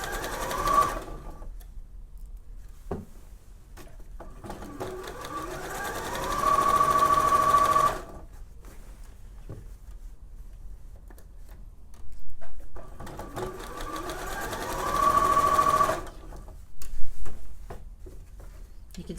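A sewing machine stitches a shirt collar stand on a Blaire shirt in two sustained runs of rapid, even needle chatter. Quiet pauses separate the runs, with soft handling sounds in between.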